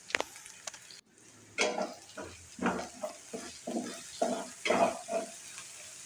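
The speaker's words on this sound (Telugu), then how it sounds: "తర్వాత మనం కట్ చేసి పెట్టుకున్న దొండకాయలు అందులో వేసుకోవాలి." Cut ivy gourd pieces go into a hot frying pan with oil, giving a burst of loud sizzling and crackling along with the scrape and clatter of stirring.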